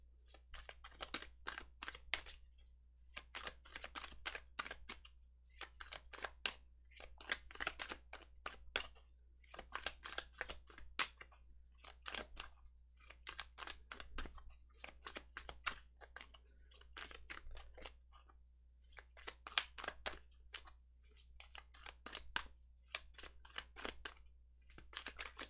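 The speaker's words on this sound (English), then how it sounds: "Okay, a lot of shuffling." Tarot cards are shuffled repeatedly up close, crisp riffling bursts in regular rounds separated by short pauses, over a low background hum.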